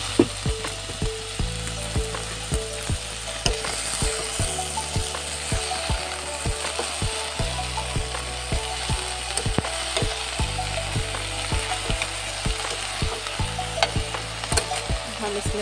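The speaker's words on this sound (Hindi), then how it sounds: "सब्जी को मसालों के साथ मैंने अच्छी तरह से मिक्स कर लिया है" Vegetables are stirred and mixed with spices in a sizzling cooking pan, with a steady frying hiss and repeated scraping, ratcheting strokes of the spoon throughout.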